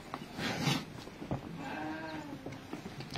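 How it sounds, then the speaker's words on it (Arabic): A flock of fifteen year-old Rahmani sheep on an Egyptian farm in Kafr El Sheikh bleat faintly, a drawn-out wavering bleat rising over a rustling background, heard from a middle distance. "15 خروف رحماني من الفواخر"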